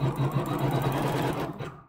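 Embroidery machine stitching a quilt with multi-tonal thread, a steady rapid mechanical whirring and clatter close up, stopping abruptly at the end.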